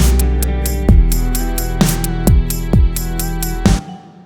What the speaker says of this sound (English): I'm using the bowed instrument from the Middle East, which is called an ethu, I believe